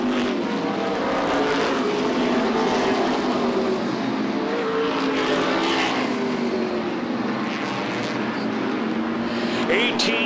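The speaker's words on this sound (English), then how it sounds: "the number 25, Pinkham, tries to close on the number 44 car" Modified race cars roar around the oval at Beech Ridge Motor Speedway in a close battle for third, engines droning steadily and loudly throughout, with a race announcer talking over them.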